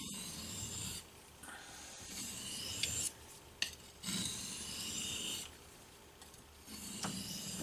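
A knife blade rasps in long, even strokes across an oiled white Arkansas sharpening stone, each pass a close, soft scraping hiss separated by brief pauses.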